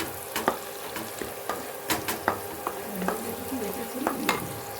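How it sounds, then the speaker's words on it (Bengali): Butter frying in a hot pan at the start of a chicken kosha, a soft sizzle under repeated sharp clinks and scrapes of a stirring spoon against the pan, close by, with no talk. "তাই একটু বাটার দেওয়া হচ্ছে"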